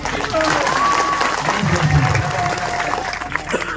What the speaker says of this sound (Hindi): अरे तालियां तो बजनी चाहिए।